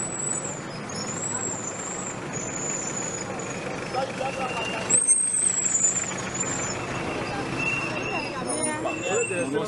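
Heavy road traffic with trucks and other vehicles rumbles past in a steady, dense wash of engine noise, with high brake squeals, a louder pass around the middle and voices murmuring underneath throughout.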